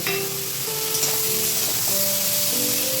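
Chopped tomato hits a hot pan of oil with boiled potato and ridge gourd waiting to go in, giving a steady close sizzle with faint stirring scrapes, no voices.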